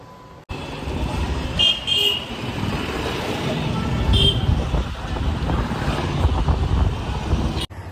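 A motorbike ridden out on the road with a steady engine drone and wind rush, distant horn toots and passing traffic around it, and voices talking briefly.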